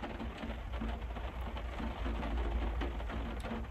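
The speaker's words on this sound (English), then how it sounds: "Got some raindrops tonight." Light raindrops patter at night in a steady, soft wash of sound, with a low constant hum underneath and no talking.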